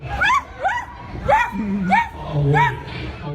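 A woman barks like a dog in sudden, involuntary bursts, with about five sharp, rising yelps and low throaty sounds between them, loud and close.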